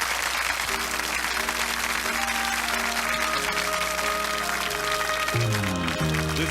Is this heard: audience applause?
yes